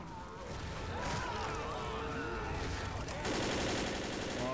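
Bursts of video game gunfire aimed at cans, rapid rattling shots running throughout with a sharper, denser volley near the end, voices talking faintly underneath.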